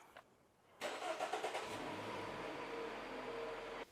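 A car engine cranks with a few rapid chugs, then catches and settles into a steady idle close by.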